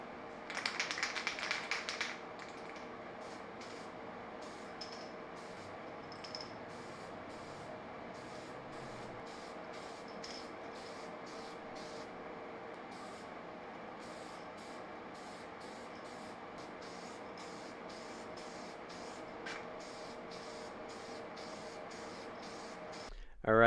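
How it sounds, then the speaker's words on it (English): A short hissing burst of copper gasket spray from an aerosol can, applied to an MLS head gasket for a BMW E36 M50 turbo engine rebuild, fairly close at the start, then a quiet workshop hum with faint taps. "we got the MLS gasket all sprayed up with some copper spray"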